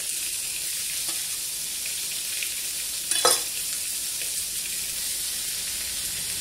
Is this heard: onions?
yes